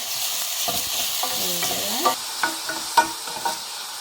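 Onion with salt sautéing in hot oil in a pan: a constant close sizzle with brisk stirring scrapes and a few sharp utensil knocks against the pan, and no voices.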